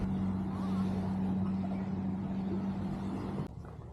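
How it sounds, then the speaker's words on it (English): Steady interstate traffic near the Mackinac Bridge in Michigan, a continuous broad roar of passing vehicles with a low engine hum, fairly distant and unbroken until it drops slightly near the end. "With a view that's an interstate comes interstate traffic sounds."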